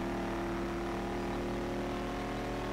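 Car engine in the racing game Street Legal Racing, a continuous droning hum with steady pitch, moderately loud and unbroken.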